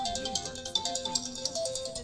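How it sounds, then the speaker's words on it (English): A phone ringtone for an incoming call sounds during Fallout 4 play, a bright repeating melodic tone pattern with steady pulses over a low game ambience, about two seconds long. "But you have to listen to the ringtone for a bit."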